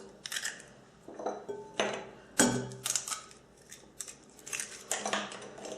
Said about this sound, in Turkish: Yumurtalarımızı güzelce kırıyoruz.